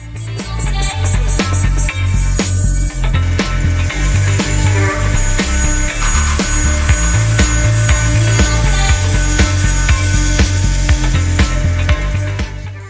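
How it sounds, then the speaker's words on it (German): A CNC machine mills an aluminium, acrylic and HPL logo with a 4 mm single-flute cutter fed aggressively, producing a loud, close, continuous grinding chatter with rapid repetitive knocks throughout and no talking. "Es kommt wieder der 4 mm Einschneider zum Einsatz. Man kann es schon hören, ich fahre ein bisschen aggressiv ins Material."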